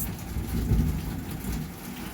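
A loud storm with heavy rain makes a dense, continuous roar with low rumbling underneath, steady throughout with no voices.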